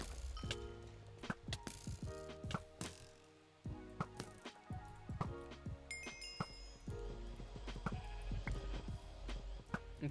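Game sound effects from Sheep Wars with a healer sheep, a busy mix of bleat-like tones, clicks and ratcheting mechanical noises over a steady dense background, loud and continuous with sharp transients throughout.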